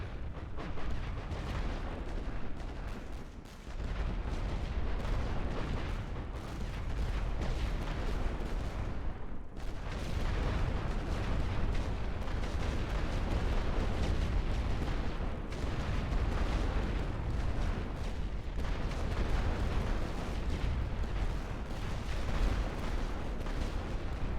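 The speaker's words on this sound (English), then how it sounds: "Tirez avec toute l'artillerie." An artillery barrage in The Great War: Western Front, a First World War strategy game: dense, overlapping booms of massed guns rolling on without pause, loud and heavy for the whole stretch.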